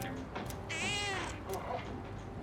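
A cat meows in the Persona 3 Reload video game, a single drawn-out, wavering cry near and loud over a soft background hum, with brief quieter mews around it.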